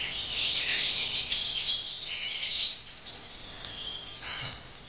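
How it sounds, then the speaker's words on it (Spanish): A crowded aviary full of songbirds fills the air with overlapping bright chirps and warbling trills, steady and close, tapering slightly near the end. "Los pájaros están preciosos."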